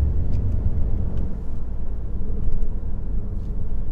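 A Renault Clio engine runs with a low, steady rumble heard from inside the car on a country road, with faint higher ticks and knocks over the drone.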